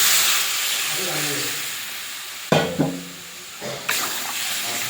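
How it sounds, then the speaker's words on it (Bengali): Water poured into ridge gourd frying in ground cumin, coriander, chili and turmeric, raising a loud, steady steam hiss broken by a few sharp sizzling bursts midway. "ঝিঙেটা কষে নিয়েছি, এবারে জলটা দিয়ে দেবো।"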